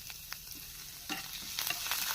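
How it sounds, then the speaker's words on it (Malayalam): Chopped ginger and garlic dropped into hot coconut oil in a pan, giving a faint, brief patter of soft crackles and sizzles. "വെളിച്ചെണ്ണ ചൂടാണ്ടിട്ട് അരിഞ്ഞ് വെച്ചിരിക്കുന്ന ഇഞ്ചിയും വെളുത്തുള്ളി ഇട്ട് കൊടുക്കാം."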